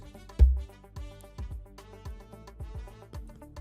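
A conga drum sample in an FL Studio Afrobeats beat remake plays a quick pattern of about ten resonant, pitched hand hits, one louder accent near the start, crisp and dry with no voices.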